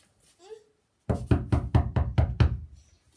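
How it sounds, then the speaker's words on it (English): Six firm, evenly spaced knocks on a door ring out close and loud after a brief faint vocal sound. "you have been knocking on the door for the past 10 minutes"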